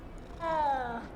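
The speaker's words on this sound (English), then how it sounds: "they're all just like immediately purring" Cats in the Hogwarts Legacy video game, a brief quiet meow-like call with a slight purr lasting about a second against a soft game background.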